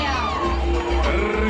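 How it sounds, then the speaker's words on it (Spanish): An audience at the Miss Expo 2008 pageant cheers and whoops for a crowned contestant, a sustained roar of shouting voices over a low rumble, loud and continuous. "Fuerte el aplauso para Andrea"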